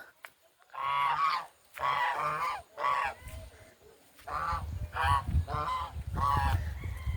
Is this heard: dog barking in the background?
no